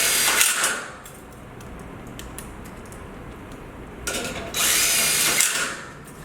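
A screw gun drives screws into 25-gauge metal studs during tenant-improvement framing, with two loud whirring bursts at the start and near the end separated by quieter clicking and handling noise.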